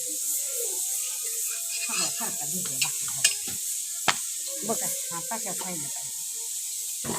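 A steady hiss of millet flatbread cooking over a fire with a few sharp crackles, while people talk close by.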